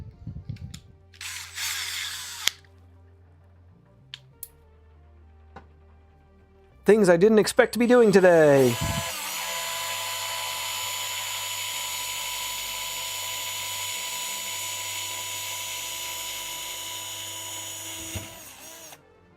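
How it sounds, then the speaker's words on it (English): A power drill whirs steadily for about ten seconds while boring into aluminum with a dull bit, after a burst of rising motor whine and a brief spoken line earlier. "This bit is not particularly sharp, and this drill does not go fast enough for drilling aluminum."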